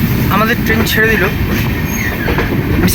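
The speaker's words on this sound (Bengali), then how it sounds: "আমাদের ট্রেন ছেড়ে দিল" A passenger train pulls out of Visakhapatnam station bound for Bhubaneswar, wheels rumbling and clattering close by with squealing metallic tones, while a voice talks briefly over the noise.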